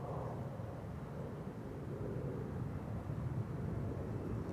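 A Delta Airlines airliner taking off from runway 24, the Kaagbaan, at Schiphol, a steady broadband jet roar that holds a constant loudness throughout, with no talk.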